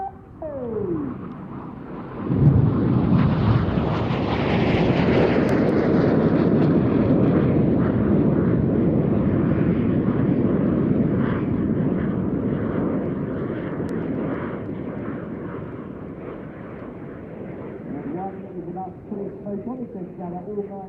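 Red Arrows aerobatic jets fly past at the 2014 Farnborough Airshow, a loud sustained roar swelling in and slowly fading, with a voice speaking over it.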